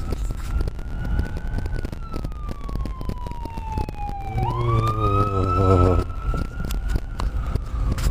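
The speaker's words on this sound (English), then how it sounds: "Oh, we got the ambulances. We got the ambulances coming." An ambulance siren wails nearby, its pitch sweeping down and then rising into a loud warbling tone over traffic noise.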